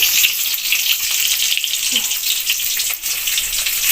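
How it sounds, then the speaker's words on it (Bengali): Meat and eggs fry in a pan for home cooking, a steady, close hiss of sizzling fat that runs throughout with a faint clink partway through. "এই যে মাংস, ডিম লাল হচ্ছে"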